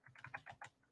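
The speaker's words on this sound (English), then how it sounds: "I'm going to be doing a little bit of typing" Light typing on a computer keyboard, a quick irregular run of soft key clicks, close but quiet, with no talk.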